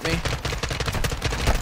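Dense, rapid gunfire in the Call of Duty MW2 campaign, with loud overlapping shot bursts filling the short moment with little pause.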